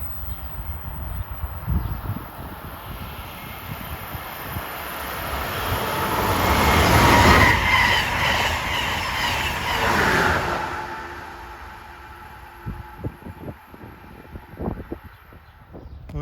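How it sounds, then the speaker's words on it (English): An Amtrak Acela Express high-speed train approaches and rushes past at Princeton Junction, New Jersey: a distant rumble swells into a loud roaring peak midway, then recedes, leaving quieter rail clicks and scattered knocks. "here comes train 2121, the Acela from New York to DC"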